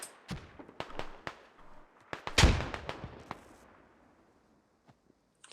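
A frag grenade explosion in a war video game, one loud blast amid scattered sharp gunshots that fade into quiet, with the rumble of the burst trailing off.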